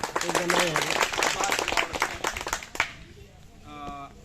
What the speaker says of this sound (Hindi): उनके सम्मान में आप लोग ताली बजाओ